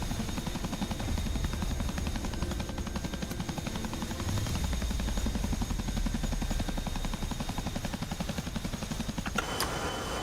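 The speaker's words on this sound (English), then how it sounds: "Now hopefully this other Chinook will land" A Chinook helicopter in an Afghanistan-set war video game gives a continuous rapid rotor thump under a steady engine whine, with a short sharp noise near the end.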